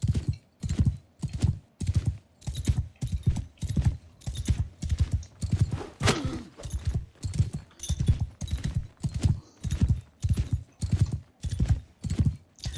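Horse hooves gallop in a steady, rapid rhythm of loud clip-clop beats in Mount & Blade II Bannerlord, close and continuous with no talk over them.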